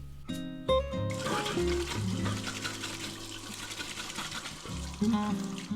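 Running tap water splashes in a sink during face washing, a continuous close pouring and splashing sound with brief surges and pauses as the hands scoop and rinse.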